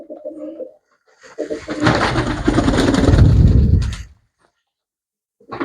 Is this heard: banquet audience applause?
no